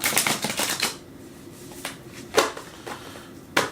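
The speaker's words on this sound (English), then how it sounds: "I'll shuffle a little on the side here." Tarot cards being shuffled by hand, a quick run of riffling flutters followed by a pause and a few separate soft card snaps, close and quiet.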